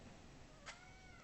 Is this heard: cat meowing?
yes